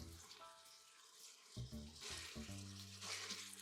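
Minced garlic and onion sauté in a pot of Zuppa Toscana soup, a faint sizzle that grows in the second half alongside soft kitchen clinks.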